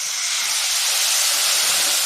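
Garlic sautéing lightly in oil in a pan for a variety rice dish, a steady, loud, close hiss filling the whole stretch without pause and with no talking.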